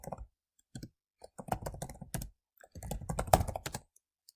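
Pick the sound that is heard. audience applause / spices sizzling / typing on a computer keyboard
typing on a computer keyboard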